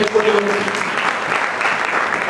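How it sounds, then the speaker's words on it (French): A church congregation applauds and cheers in praise of God during a French-language sermon, a steady dense wash of clapping throughout with a voice briefly audible over it at the start. "Est-ce qu'on peut acclamer Dieu pour elle?"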